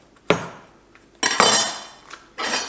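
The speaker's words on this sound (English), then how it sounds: "chop off the base, chop out in a little triangle the middle" A knife chops through a fennel bulb on a cutting board, giving a few separate crisp, close strikes with short gaps between them and no talking over them.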